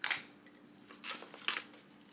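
Tape is pulled and pressed onto a twisted plastic bag holding cannon powder for a swivel gun charge, giving a few short crinkly rips and rustles up close, quiet, with no talking.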